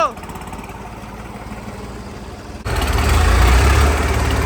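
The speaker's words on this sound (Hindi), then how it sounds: "चलो चलो चल गया जॉन डियर चल गया।" A John Deere tractor engine cranks and then catches partway through, settling into a loud, low, rumbling run with voices talking over it.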